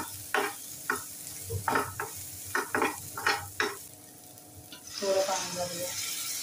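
A spoon scrapes and stirs a spice mix of red chilli, coriander and cumin powders in a pan for pav bhaji, giving a series of distinct scraping strokes over a low sizzle, then a brief splash toward the end.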